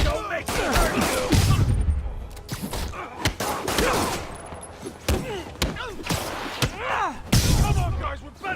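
Enemy gunfire in the Marvel's Spider-Man video game, a rapid series of sharp, loud shots and fusillade bursts over several seconds, mixed with impacts and thuds, with voices shouting in between.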